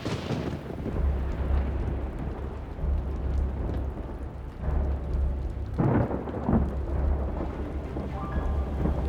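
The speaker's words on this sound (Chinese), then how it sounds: "应该也在下雨" Steady heavy rain pours throughout, with deep rolling thunder rumbling underneath and swelling in a couple of louder bursts; no voices.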